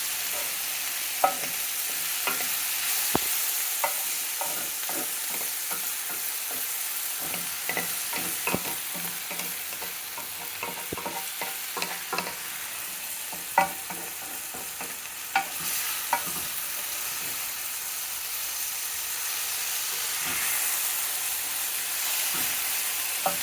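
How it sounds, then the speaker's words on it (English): Chicken and shrimp stir-fry for fajitas with mushrooms, hissing steadily in a hot pan, with frequent sharp clicks and scrapes of a utensil stirring and flipping throughout, fairly close. "So yeah, we're basically doing a stir fry."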